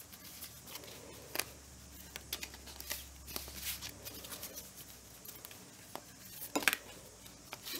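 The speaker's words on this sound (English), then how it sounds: "a little bit of shuffling first" Angel of Atlantis oracle cards being shuffled for a tarot-style reading: soft, quiet riffling and sliding with scattered sharp snaps and taps at an irregular pace, with no talking.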